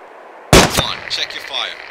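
Loud gunfire from the Arma 2 military game, a sharp double burst of shots that dominates the sound, followed by a ringing echo and faint radio chatter.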